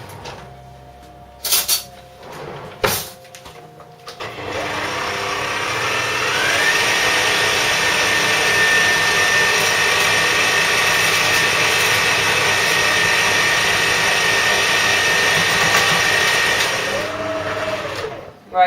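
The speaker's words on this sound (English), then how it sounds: "I'm going to whisk the arse out of it for literally about 20 minutes" Meringue being whisked gives a loud, unbroken whirring drone that runs steadily for many seconds, preceded by a few brief clatters and knocks.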